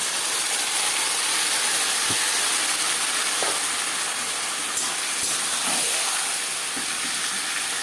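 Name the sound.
marinated chicken added to fried onions, sizzling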